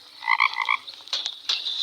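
Frog creature croaking in a video game, a quick burst of bubbly croaks followed by two or three shorter chirping calls, close and clear with no talking.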